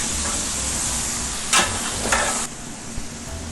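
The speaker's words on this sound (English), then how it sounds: "You just have to fry this meat with the onions" Meat frying with onions in a large pan, about 5.5 pounds of meat for Namak Mandi and Charsi Tikka: a steady broadband sizzle with louder bursts of stirring or hissing steam midway, close and continuous, with no voices.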